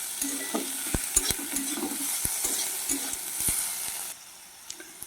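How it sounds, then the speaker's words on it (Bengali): Prawns fry with spice paste and green chillies in a pan, a steady close sizzle punctuated by sharp scraping knocks of a spatula stirring against the metal, with the sizzle dropping away near the end. "চিংড়ি মাছগুলো এর সাথেই আমি ভেজে নেব।"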